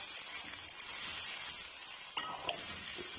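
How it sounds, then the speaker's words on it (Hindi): Potatoes frying in a pan for a restaurant-style mixed vegetable dish: a soft, continuous sizzle with occasional stirring and two brief spatula scrapes toward the end. "यहाँ 10 मिनट हो गए तकरीबन आलू को भूनते हुए, फ्राई करते हुए"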